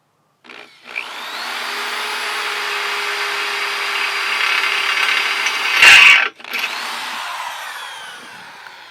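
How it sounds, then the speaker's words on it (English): A power drill whines steadily as it bores through metal for a skateboard grind box, surging to a louder grinding burst near the end as it breaks through, before briefly cutting out and resuming. "You can expect to break drill bits if you're drilling a lot of metal."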